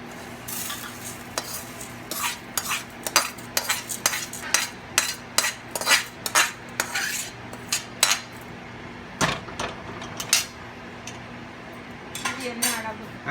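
Dal roasting dry in a pan is stirred with a metal spoon, giving repeated sharp scraping clicks at an uneven rhythm over a faint sizzle, close and clear.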